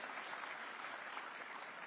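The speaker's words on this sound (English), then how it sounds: "So we can have a round of applause for that." Audience applause at a news summit in India following an introduction of a long-serving foreign minister. Faint, dense, continuous clapping heard from a distance, steady throughout without voices.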